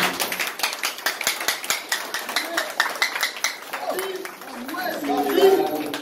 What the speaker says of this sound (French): Je vous demande d'applaudisser pour moi, monsieur